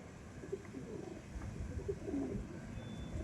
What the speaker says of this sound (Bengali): এই একটা ফুলসিরা পায়রা আছে, দেখে নিন, নর পায়রা এটা।